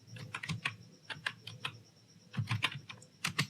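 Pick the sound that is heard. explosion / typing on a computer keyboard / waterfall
typing on a computer keyboard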